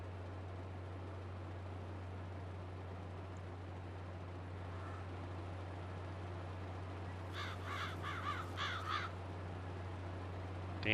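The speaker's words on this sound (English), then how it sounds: "Damn crows" Several crows caw in a short run of harsh, repeated calls from a moderate distance, over a steady low engine hum at a nighttime logging site.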